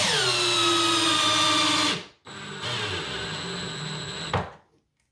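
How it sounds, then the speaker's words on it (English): Power driver sinking Torx screws into pilot holes in a wooden cabinet face frame; a loud, steady whirring motor run, a brief pause, then a second run that ends as the screw seats. "we'll take our Torx screws and install them in the pilot holes"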